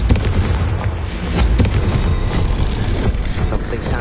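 A Confringo blasting spell explodes in a Hogwarts video game: a loud, dense burst of crackling blast noise that holds for several seconds with little pause.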